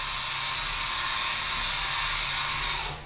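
Haas Mini Mill 2 CNC mill spindle spinning up: a steady, loud broadband whir with a high whine that holds evenly, then drops away at the very end.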